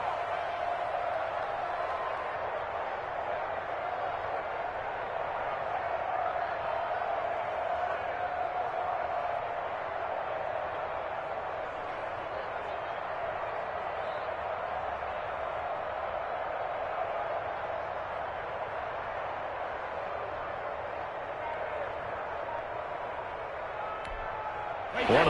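Stadium crowd noise in an American football video game, a steady, broad roar that holds at an even level throughout as the crowd builds ahead of a big third down.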